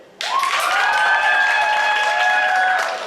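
An audience at a live stage show bursts into sustained applause and cheering at once, holding loud and close for several seconds before tapering slightly, with whoops riding above the clapping.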